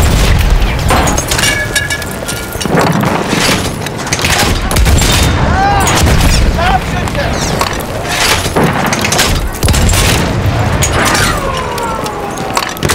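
Battlefield 1 gameplay with a tank in battle, heavy booming explosions and bursts of gunfire repeating close and loud over a rumbling din, with shouted voices and whistling tones mixed in.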